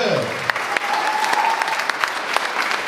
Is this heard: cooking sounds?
no